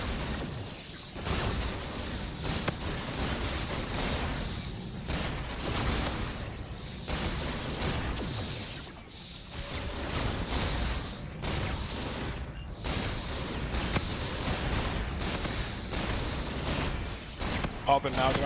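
Game gunfire in the Call of Duty zombies map Beast from Beyond comes as repeated dense bursts and bangs throughout, with players talking over the shooting.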